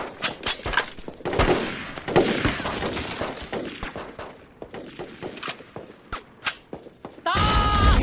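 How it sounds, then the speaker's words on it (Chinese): Dense battlefield gunfire from a Chinese war film, rapid volleys and machine-gun bursts crackling loud and close for about seven seconds, with thuds mixed in, then a sudden harsher burst at the end. "敌近50米，再开枪"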